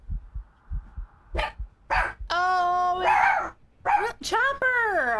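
A dog barks several times nearby in sharp, irregular bursts, some drawn out into whining howls, mixed with low thumping in the background.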